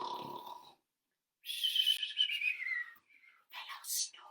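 A voice imitates snoring for sleeping toy animals, with breathy, wheezy drawn-out tones broken by a pause and then a shorter whistling snore.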